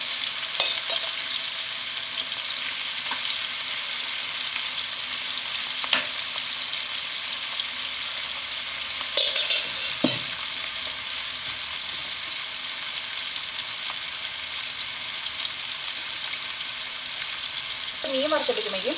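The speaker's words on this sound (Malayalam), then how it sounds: "മീൻ നന്നായിട്ട് മുരിയണം." Pieces of fish fry in hot oil for fish pickle, a loud, continuous close sizzle with occasional stirring clinks and faint speech in the background.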